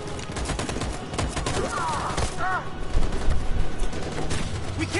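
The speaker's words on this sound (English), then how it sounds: "That machine gun is taking down everything that moves" Sustained machine gun fire in the game Detroit: Become Human, dense rapid bursts mixed with scattered gunshots, loud and close, with voices talking over the barrage.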